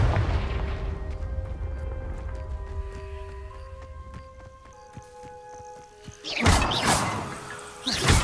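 A Confringo fire spell explodes in the Hogwarts Legacy video game. Two loud booming blasts land near the end over steady, quieter background music.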